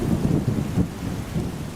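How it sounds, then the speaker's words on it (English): A severe thunder shower at sea: low rumbling thunder rolls under a dense, steady patter of rain, heard close and continuous with no voices. "A severe thunder shower and several going round."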